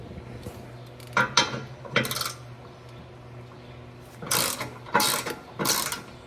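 A hand ratchet removes screws to prepare a Jeep Gladiator for a new bumper, rattling out several short bursts of rapid clicking with quiet pauses between them. No one speaks.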